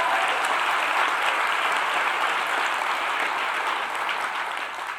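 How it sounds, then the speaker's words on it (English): Sustained audience applause at a live festival event hall, dense steady clapping throughout that fades slightly near the end, with no talk over it. "Big round of applause."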